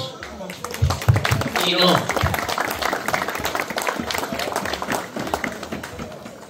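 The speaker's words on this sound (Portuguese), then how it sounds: "Uma salva de palmas para todos vós." Audience applause at the opening of the 2024 Festa do Milho, a burst of clapping from a gathered crowd mixed with nearby talk and voices, fairly close and steady.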